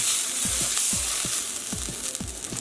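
Bone-in, skin-on chicken pieces sear in a hot pan with a steady, close sizzle, broken by several sharp clicks and taps as the pieces are turned.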